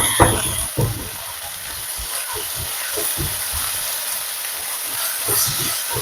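Chopped beetroot and kohlrabi fry in a little hot oil with a steady soft sizzle and hiss, broken by a few sharp clicks and pops near the start.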